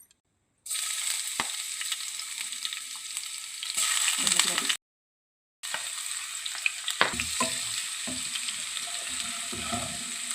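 Ginger garlic paste dropped into hot oil, a loud bright sizzle that runs steadily, cuts out for a moment, then resumes with stirring scrapes and crackles.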